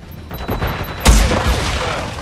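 A grenade explosion in Modern Warfare 2 during a Hardpoint match on the Shipment map lands as a loud, close boom with a long rumbling tail, amid gunfire and other battle noise.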